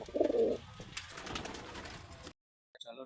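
Pigeons coo in low, throaty bursts up close, loudest at the start and fading under scattered chirps and rustling, before a silent gap and a short return of faint calls; the birds are big-sized pigeons being shown for sale.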